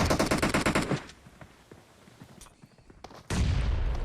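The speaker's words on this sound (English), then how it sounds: "There's just nades going off everywhere" Gunfire and grenade blasts in a PUBG Mobile match: a rapid burst of automatic fire, then scattered distant pops, before a loud sustained roar of explosions kicks in near the end.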